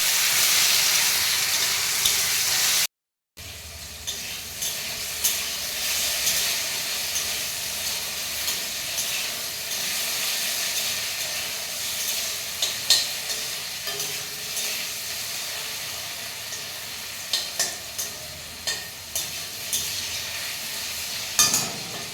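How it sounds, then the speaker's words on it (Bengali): Potatoes fry in oil with a continuous crackling sizzle and hiss that holds steady, broken by a brief silent gap, with scattered spatters and stirring taps throughout. "এবার আলুগুলি ভেজে নেব।"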